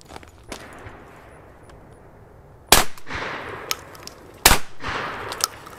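Two sharp, loud shotgun blasts fire BPS slugs at a target about 10 yards away outdoors, spaced under two seconds apart with a short ringing decay after each and light handling noise between them.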